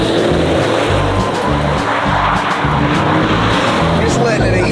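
A Rocky Ridge Ford F-150 pickup drives off-road with a loud, constant engine roar and rumbling tires on rough ground, and people talk over it.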